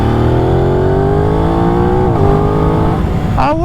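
An Aprilia RS660 sport motorcycle accelerates hard, its engine note climbing steadily through the revs, dipping briefly at a quickshifter gear change, then rising again before another shift; loud and close, with no talk.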